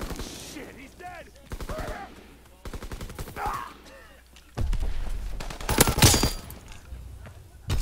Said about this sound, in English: I just shot Smutty right in the face